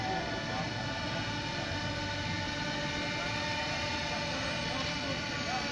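A DJI Mavic Pro drone flies nearby, its steady high-pitched whine of spinning propellers holding an even level throughout, with faint voices underneath.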